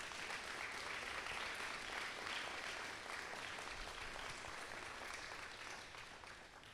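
Applause from a gathered crowd at an outdoor Gainesville historical marker ceremony honoring a commissioner, steady dense clapping sustained for several seconds before gradually thinning out toward the end.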